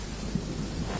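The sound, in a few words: rain and thunder in the video game Genshin Impact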